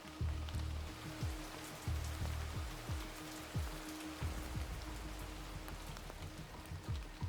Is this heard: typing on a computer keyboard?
no